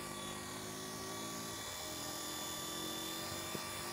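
A V912 remote control helicopter flies outdoors, its steady high-pitched rotor and motor whine holding at an even level throughout, with a faint brief tick near the end.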